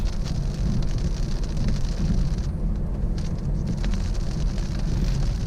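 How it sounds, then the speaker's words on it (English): Heavy rain drums steadily on a car while driving on a foggy road, with a dense wash of noise and road rumble that persists throughout, briefly softening midway, with no one speaking. "It's raining pretty hard and it's like foggy."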